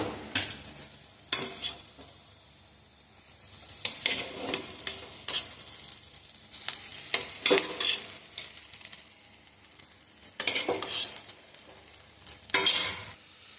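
Cooked leftover rice is stirred into a spiced tempering in a pan: repeated bursts of spatula scraping and stirring over a low sizzle, close by and fairly quiet, with short pauses between strokes and no voices.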